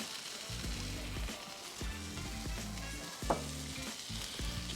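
Sesame oil and egg sizzling on a hot flat-top griddle as chicken fried rice is made, a steady crackling fry with rhythmic scraping strokes of a spatula repeating every second or so, no voices.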